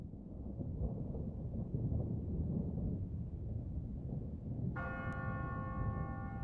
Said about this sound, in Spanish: Las campanas.